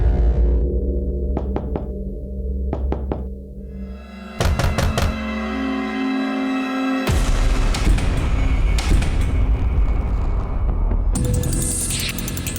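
Police team knocking hard on a closed door and then breaking it in: a few sharp knocks, then heavy thuds and a crash, over a tense dramatic music bed.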